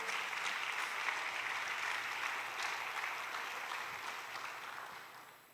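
A church congregation applauds steadily during a sermon, a dense wash of clapping that fades slightly toward the end.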